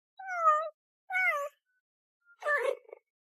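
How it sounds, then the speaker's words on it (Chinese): A cheetah calls three times in close succession: two clear, high, chirping mews followed by a rougher, noisier third call, each under a second long with short silent gaps between. "这是猎豹，它的叫声是这样的。"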